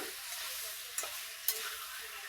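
Spices stirred in a frying pan, heard as a quiet, steady hiss of frying with two short scraping strokes of a spoon, close but faint, with no talking.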